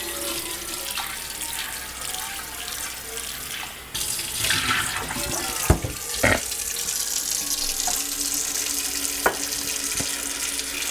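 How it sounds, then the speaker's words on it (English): Tap water runs steadily into a cooking pot at a kitchen sink while ribs are prepared for a deep-fried soul food meal, a continuous close hiss with a louder gush and a few clunks of the pot midway. "Fill this up with some water."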